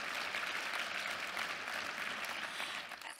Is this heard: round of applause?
yes